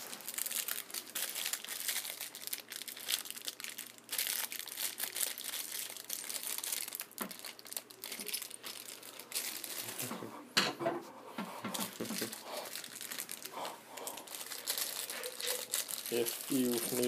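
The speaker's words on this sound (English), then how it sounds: "Okay, so open the bag of screws." Plastic bag holding screws for a Kwikset bathroom door handle being handled and pulled open, with continuous close crinkling and rustling, small rattles of loose parts, and occasional voices in the background.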